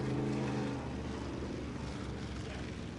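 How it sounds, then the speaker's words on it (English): Six-cylinder limited sportsman race cars without mufflers at Humberstone Speedway give a loud, continuous, raw engine roar that holds steady throughout, with a brief tonal drone near the start. "most of them without mufflers, and what a beautiful sound here at the Speedway"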